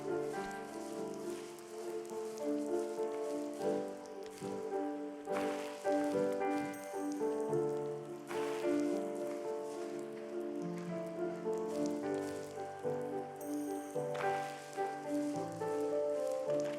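Rain falling in the video game The First Tree, a soft continuous patter beneath sustained, gentle musical tones that swell and shift, no talking over it.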